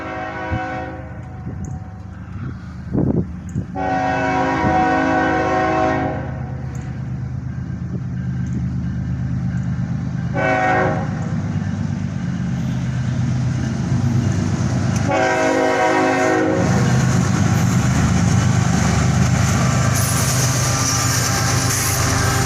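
A freight train led by a pair of ES44AC locomotives rumbles past close and loud, horn blasts sounding repeatedly over the heavy roar of engines and rolling cars.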